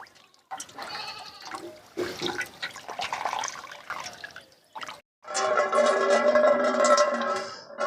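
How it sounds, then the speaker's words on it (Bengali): Cold water draining and trickling out of fresh chhena for rasgulla as it is squeezed, a close, gurgling stream that comes in uneven bursts and ends in a longer steady pour, with no speech. "এই দেখুন ঠান্ডা জলটা আমি এইভাবে ভালো করে বের করে নেবো"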